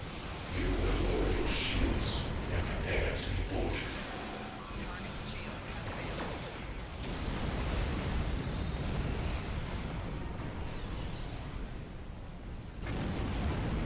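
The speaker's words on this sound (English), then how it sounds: "I need to fire off some torpedoes." Torpedoes fire and explode in the space game Star Trek Online, heavy rumbling blasts and bursts filling the mix while a person talks over the action.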